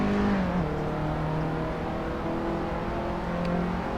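A four-wheel drive car laps a track in the racing game Assetto Corsa, its engine humming steadily with a sustained, moderately loud tone that shifts pitch slightly as it accelerates and shifts, with no voices over it.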